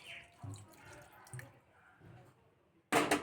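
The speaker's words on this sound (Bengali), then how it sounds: "জল দিয়ে নেবো" Water is poured into a grinder jar holding dried red chillies and spices for a coriander chicken paste. A quiet voice talks first, then a short, loud burst of splashing water ends the clip.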